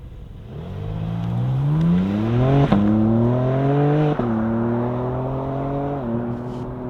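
A 2025 BMW M3 CS Touring pulls hard on the road, its engine note climbing steadily through the revs with sharp breaks at two gear changes. The loud, continuous drone fills the cabin without any voices.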